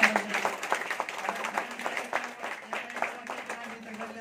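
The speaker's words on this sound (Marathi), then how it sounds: "खरंच जोरदार टाळ्या झाली पाहिजे." An audience clapping at an event honouring a guest leader, a dense, moderately loud patter of applause that stays fairly even across the whole stretch, with a low steady hum underneath.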